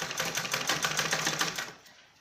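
Sewing machine running a straight seam along the folded hem of a salwar, a fast, even, close rattling stitch for about two seconds before it slows and stops.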